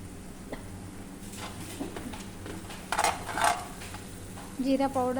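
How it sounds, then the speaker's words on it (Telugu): Tomato pachadi being stirred in a pan, a steady soft scraping and gentle sizzle with a few louder stirs near the end. "చూడండి, ఇలా కదుపుకుంటూ ఉండాలి, దగ్గర పడాలి."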